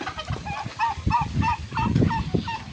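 Farm birds calling in Taal, Batangas, where turkeys are kept alongside chickens; a run of repeated nasal gobbling calls close by, steady and busy across the whole moment with no talking.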